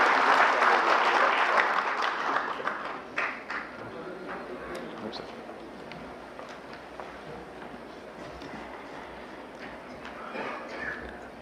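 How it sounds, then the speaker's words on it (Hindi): Audience applause welcoming a speaker to the stage at a national Aadhaar CSC workshop, dense and loud at first, then thinning to scattered claps over a low room murmur. "एक बार तालियों के साथ उनका स्वागत किया जाए।"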